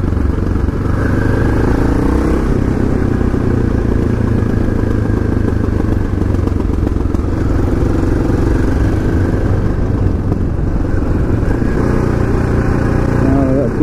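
A KTM LC4 640 single-cylinder motorcycle with an aftermarket exhaust runs steadily on a test ride, its engine droning loud and close throughout with a rider's voice partly over it.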